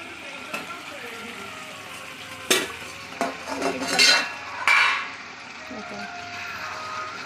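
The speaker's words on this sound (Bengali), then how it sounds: "এখন আমি ঢাকনাটা তুলব" A lid comes off a pot of mutton curry with potatoes, bringing a few sharp metallic clanks and clinks spaced over several seconds above a low kitchen background and faint cooking sizzle.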